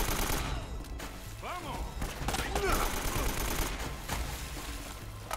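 Gunfire in the video game Uncharted: a steady crackle of shots from a distance under a busy game soundscape, with a few sharper close reports and some voices.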